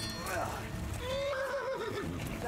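A horse in the medieval role-playing game Kingdom Come: Deliverance gives a loud, wavering whinny lasting about a second, over ongoing game noise with someone speaking nearby.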